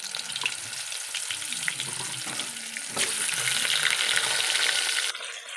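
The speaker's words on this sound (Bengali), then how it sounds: "এবার লাউগুলা আমি ভেজে নেব" Bottle gourd pieces frying in oil with a steady bright sizzle and stirring clatter, growing louder and denser partway through before easing off near the end.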